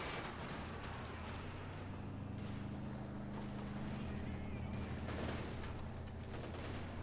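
Rapid bursts of small-arms and machine-gun fire from the Company of Heroes 2 battlefield crackle at moderate, fairly distant level over a steady low engine-like hum, the shots coming in uneven volleys.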